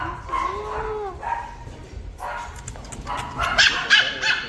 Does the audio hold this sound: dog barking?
yes